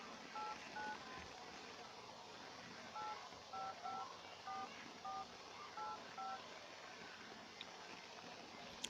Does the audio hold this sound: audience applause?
no